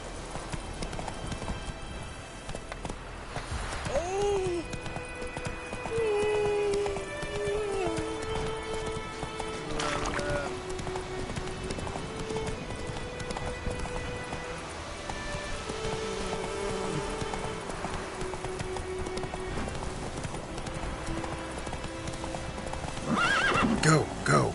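A horse clip-clops along in The Witcher 3 fantasy game, its hoofbeats steady and continuous, with a whinny early on and a voice talking over much of it.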